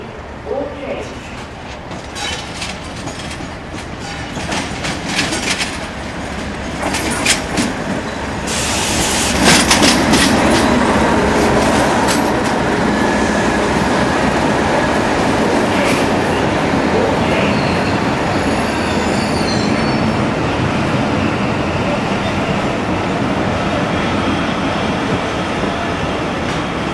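A train hauled by locomotive 37408 on the Cardiff–Rhymney line in 2000, heard from a window, rumbles along the rails with rhythmic clicking and occasional metallic squeals, loud and close, growing heavier midway and holding steady to the end as it arrives at a platform.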